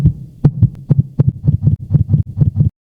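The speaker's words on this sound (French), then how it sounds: "Le cœur qui bat fort." Heart beating hard, with a rapid run of deep, thumping double beats. They are close and loud, speed up slightly, and stop abruptly.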